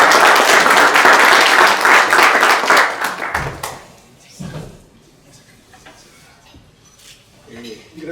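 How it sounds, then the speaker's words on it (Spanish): Audience at a technical seminar on structural repair and reinforcement breaks into a strong round of clapping that lasts about three seconds, then fades into room noise and scattered movement. "Fuerte aplauso"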